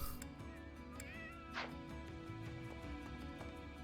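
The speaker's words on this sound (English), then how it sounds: "Still surrounded by all the cats." A single faint cat meow rises over quiet sounds from the video game Fire Emblem: Three Houses, with soft clicks and a low background hum.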